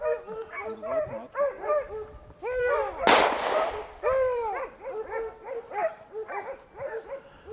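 Hunting dogs bay and yelp in rapid, overlapping bursts during a wild boar hunt, with one loud gunshot cracking through partway.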